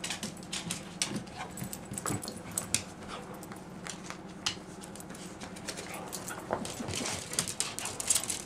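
Six-week-old puggle puppies whimper and yip in short, scattered cries with light pattering movement, fairly close and moderately quiet.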